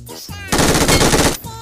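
Rapid automatic gunfire in PUBG Mobile Metro Royale, a loud, dense burst of shots lasting under a second, close and alone without talk.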